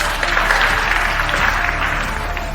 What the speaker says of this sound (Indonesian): Mari kita tepuk tangan menyambut mempelai pria hari ini